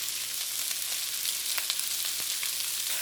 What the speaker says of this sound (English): we flip them over and let it brown up the other side